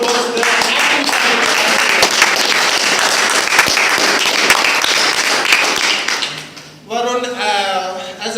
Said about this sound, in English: Can we have a round of applause for Toastmaster Varun